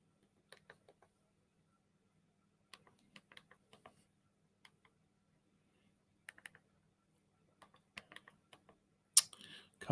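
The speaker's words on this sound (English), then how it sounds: "Typing too quickly." Quick bursts of computer keyboard typing come in short, scattered clusters of soft key clicks in a quiet room, ending with a louder clatter.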